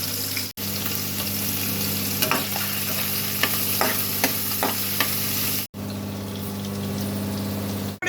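Chicken cubes stir-fried with onion greens in a hot pan for Chinese fried rice, a loud steady sizzle with light scraping and stirring knocks, close by and without talk.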